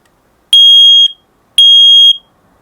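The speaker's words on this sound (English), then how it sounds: "this is the fire alarm. It's a little, most caravans have these Fire Angel ones. You just push the little button on the front" A Fire Angel smoke alarm in a caravan, set off with its front test button, sounds two loud, piercing electronic beeps, each about half a second long, with a short gap between them and no other sound.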